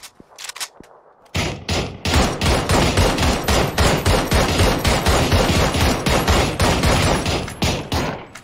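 Dense, continuous gunfire from a battle royale video game, a loud sustained fusillade of rapid shots after a few scattered opening cracks and a brief pause.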